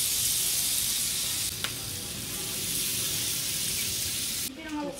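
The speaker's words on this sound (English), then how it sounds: "It's sizzling sizzling." Steady loud sizzling of food frying in a pan throughout, with a brief clink and a short voice near the end.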